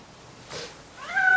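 A house cat meows briefly near the end, a short clear call after a quiet stretch with a faint rustle before it.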